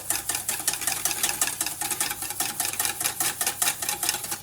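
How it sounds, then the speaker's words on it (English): A whisk beats oil into a salad dressing for a blood orange, chicory, labneh and hazelnut salad, giving a steady, brisk swishing rhythm against the bowl, close and continuous with no voices. "now we're going to start to emulsify our dressing by slowly adding in some of our oil"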